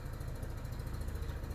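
A new Lifan KPV 150 motorcycle idles with its rear wheel still, a steady low putter with a fast even pulse and no change in pitch.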